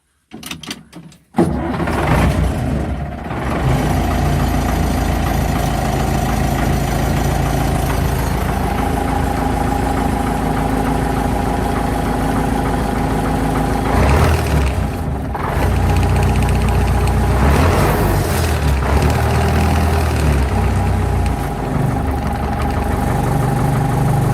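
A YUMZ tractor fitted with an SMD-22 diesel engine cranks briefly and catches, then settles into a loud, steady, close-up running rumble that holds for the rest of the stretch.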